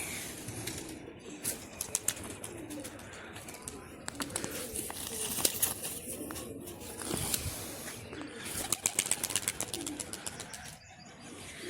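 Pigeons released from a rooftop flying session, bursts of wing flapping mixed with coos and chirps, busy and close with sharp clapping peaks, under occasional voices.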